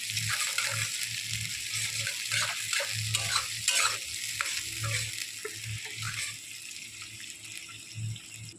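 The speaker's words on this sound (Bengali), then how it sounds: "এই পেঁয়াজটা দিয়ে একটু নেড়ে নেবো" Chopped onion being stirred into hot oil in a pan for a large katla fish curry, with steady close sizzling and repeated scraping strokes of a spatula.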